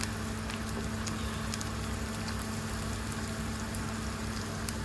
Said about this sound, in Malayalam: നമ്മുടെ ഉള്ളി അരിഞ്ഞൂടെ ഇട്ട് കൊടുക്കാം. ഇത് നല്ല ബ്രൗൺ കളറ് നമുക്ക് കിട്ടണം.